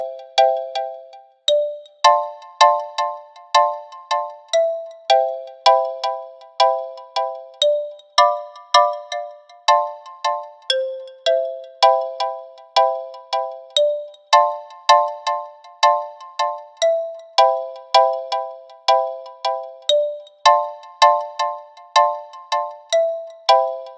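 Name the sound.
GarageBand xylophone playing chords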